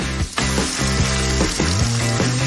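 KFC chicken fries in hot oil with a loud, continuous sizzle, and a low, steady tonal backing runs underneath.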